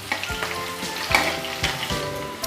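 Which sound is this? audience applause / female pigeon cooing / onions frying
onions frying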